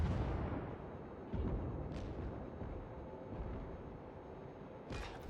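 Naval gunfire in World of Warships from the Katori cruiser's guns, several heavy booming shots spaced irregularly over a steady low rumble of engine and sea noise, loud and close.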